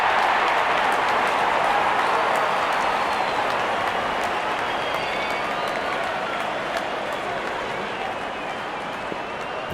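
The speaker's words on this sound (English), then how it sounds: "Openers walking in and the crowd cheering in anticipation." A cricket stadium crowd at a Mumbai Indians versus Gujarat Titans match cheers and claps before the first ball, a dense, steady roar with scattered sharp claps that eases slightly toward the end.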